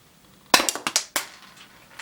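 Several quiet snappy shots from a UK Arms P2400 low-powered airsoft pistol, four or five sharp cracks in quick irregular succession with faint clinks after, no voices.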